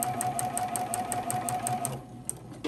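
A sewing machine stitches fabric in a steady, rapid, close-up whirring rhythm that runs for about two seconds, then stops.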